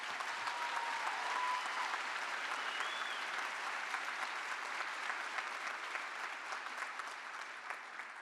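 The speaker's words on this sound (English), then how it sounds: "let's give another very loud round of applause" Loud, sustained audience applause fills a large hall at the LSU veterinary medicine white coat ceremony for the Class of 2024, a dense, even wash of many hands clapping that fades slightly toward the end.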